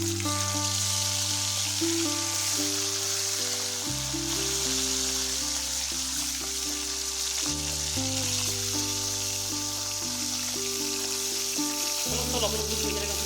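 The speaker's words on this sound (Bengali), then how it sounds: "এই গরম তেলের উপরে লবণ হলুদ মেখে রাখা শোল মাছের পিসগুলো একে একে যোগ করে দেবো" Pieces of snakehead fish rubbed with salt and turmeric sizzle steadily in hot oil in a karai, a continuous hiss that runs under background music throughout.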